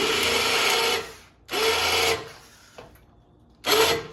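Electric winch on a DIY 2-inch hitch adapter lifting a crate through a pulley, whirring motor runs in three loud bursts separated by short pauses, close and alone.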